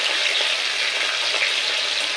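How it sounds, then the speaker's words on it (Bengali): Katla fish heads fry in hot oil, a loud, continuous close-up sizzle with no talking. "এরকম লাল করে মাথাগুলো একটু ভেজে নিতে হবে"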